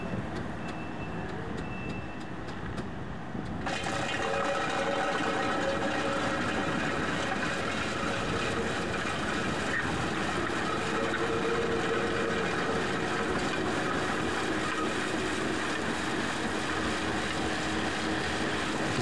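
Skid steer pushing soupy, saturated wet gravel out of waterlogged potholes, a steady rumbling engine drone with grinding and sloshing texture that continues throughout, growing fuller after a few seconds.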